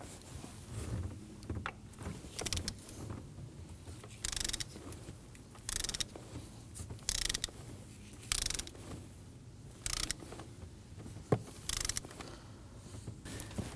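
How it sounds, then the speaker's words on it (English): A torque wrench tightens an ignition coil bolt on a Nissan Armada 5.6L V8, giving a string of close, quiet ratcheting clicks in short bursts with small pauses between them, and no voices. "now we're going to torque that bolt to 9 foot-pounds"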